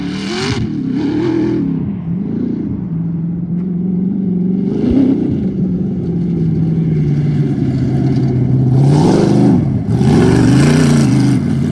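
A Bug sandrail's engine revs hard while driving, loud and close, its pitch climbing and dropping in repeated surges between throttle and downshifts, with no voices.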